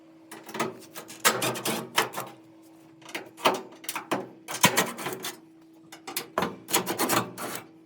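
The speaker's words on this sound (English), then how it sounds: "So now we're gonna unscrew these 3 screws here on top." Screws being backed out of the top panel of a Samsung dryer, heard as close, repeated scraping and rattling bursts with short pauses between turns and a faint steady hum underneath.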